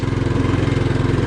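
A Tillotson 212 engine swapped onto a Trailmaster Hurricane 200 Pro go-kart idles high and steady, a close, loud, pulsing drone with an even rapid throb and no talking over it.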